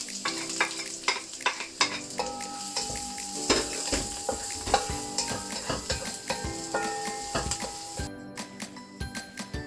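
Garlic and onion sizzle steadily in a hot pan for beef fried rice, with frequent stirring scrapes and clinks of a utensil against the pan throughout, loud and close with no talking.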